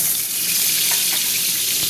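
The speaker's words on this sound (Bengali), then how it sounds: "ডিমগুলো দিয়ে দিচ্ছি" Eggs frying in hot oil, a steady close hiss and crackle running without pause, with a few small pops and no talking.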